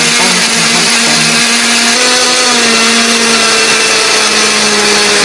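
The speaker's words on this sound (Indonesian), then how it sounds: "Di sini aku menghaluskannya menggunakan blender." A kitchen blender grinds spice paste ingredients with a little oil or water, a loud, constant high-pitched motor whir running unbroken for several seconds.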